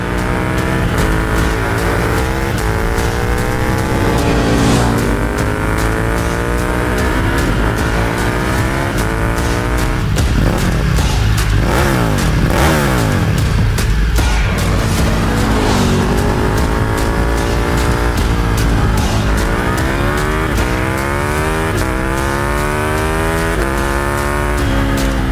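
A 1390 motorcycle engine revs hard and rowdy, repeated climbs and drops in pitch with gear changes over a sustained loud roar, close and continuous throughout.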